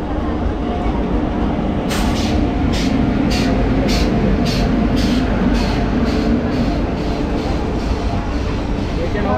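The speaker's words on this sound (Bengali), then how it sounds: "অ্যাকচুয়ালি আসছে হচ্ছে সিকিম মহানন্দা এক্সপ্রেস" Sikkim Mahananda Express crossing close by, a loud continuous rumble and rattle of rolling wagons with a regular beat of wheels clacking over rail joints, steady throughout.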